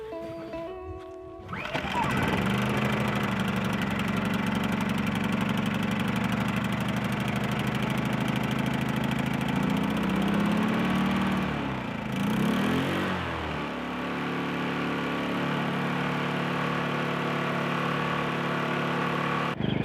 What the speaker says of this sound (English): Let's see if this one will start on the first pull too.